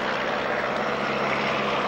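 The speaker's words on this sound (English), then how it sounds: "Richard Cutter, the stage actor learned to fly on this particular aeroplane." A vintage propeller aeroplane from 1933 flies at an outdoor airshow pageant, its engine giving a steady, loud, continuous drone with no talking over it.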